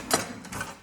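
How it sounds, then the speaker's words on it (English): A small hand orange squeezer presses half an orange, giving a brief close creaky mechanical squeeze with a couple of quick clicks. "I use my trusty little orange squeezer"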